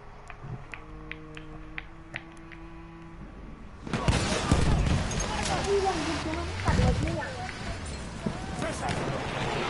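Bursts of rapid gunfire crackle and pop amid busy PS4 game noise, with a voice talking underneath; the shots begin suddenly after a quieter opening.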